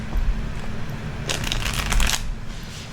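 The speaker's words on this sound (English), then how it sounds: "I've already shuffled these cards. I'm going to shuffle them again," Tarot cards being shuffled by hand, a single burst of crisp riffling and flapping lasting about a second, up close, over a low steady background hum.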